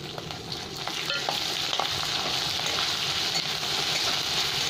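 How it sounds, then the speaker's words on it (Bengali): Two green chillies frying with a pinch of salt in a pan over medium heat, a dense, continuous hissing sizzle with scattered small pops and spits, close and steady without talk. "সাথে দিয়ে দিলাম 2টো কাঁচা লঙ্কা, ভাজা হবে।"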